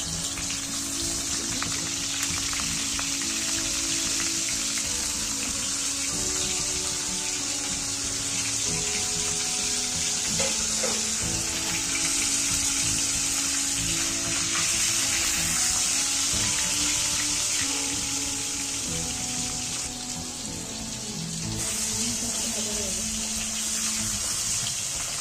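Hilsa fish, rubbed with turmeric and salt, frying in hot mustard oil, giving a loud, steady, close sizzle that hisses without pause for the whole stretch, with no talking.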